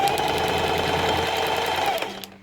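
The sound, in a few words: sewing machine stitching rows on feather fringe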